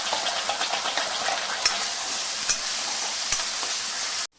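Potato pieces with ground masala paste are sautéed and stirred in a pan, with a loud, steady sizzle and occasional spatula scrapes close by, cutting off abruptly at the end.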